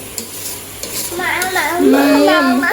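Paratha fries in a pan with a close, loud sizzle and some stirring or scraping, while a voice speaks over the second half.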